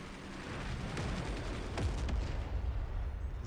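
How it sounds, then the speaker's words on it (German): Cannon fire from a ship battle in the video game Forts High Seas: a dense barrage of booming shots and rumbling blasts overlapping one another, loud and continuous with sharp cracks near the middle. "Alle Gunner feuern."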